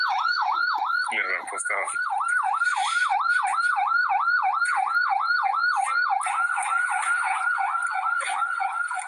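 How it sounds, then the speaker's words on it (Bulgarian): A fire truck siren wails loud and close, a rapid rising-and-falling yelp cycling steadily throughout, with a brief voice speaking under it near the start. "Чуваме и сирени. И един пожарника за камион."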